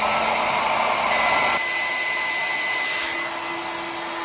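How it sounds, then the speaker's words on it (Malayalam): A handheld blow dryer runs steadily nearby, a continuous whooshing roar of hot air that shifts slightly in tone partway through as the setting or angle changes, with no talking. "ബ്ലോ ഡ്രയർ യൂസ് ചെയ്ത് ഒന്ന് ചൂടാക്കി കൊടുക്കാം."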